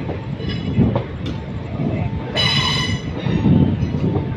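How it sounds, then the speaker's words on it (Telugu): A passenger train rolling slowly into platform 4 at Vijayawada Junction, with wheels clattering over rail joints, a brief high squeal or horn tone, and a voice speaking over the rumble close by. "మన ట్రైన్ వచ్చేసి ప్లాట్ఫామ్ నెంబర్ 4కి వెళ్తుంది"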